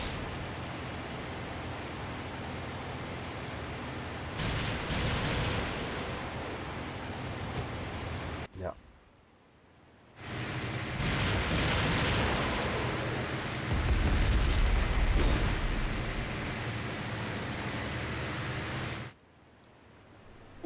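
Anti-aircraft fire in the IL-2 Sturmovik combat flight game bursts around the aircraft as a loud, dense roar of rumbling blasts in two long stretches, with a brief quiet gap between them.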